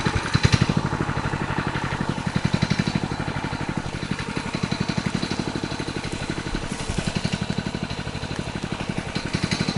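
A vehicle engine pulls along slowly on a rural track in rainy autumn, a steady low chugging throb with rhythmic pulsing and road rumble, loud and close throughout with no talk over it.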